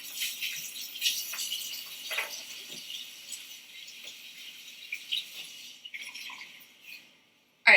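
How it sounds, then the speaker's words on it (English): Hands being washed under a running kitchen tap, a thin, hissing trickle of water with small splashes, fairly faint and steady, cut off near the end by a sharp knock. "I'm going to wash my hands."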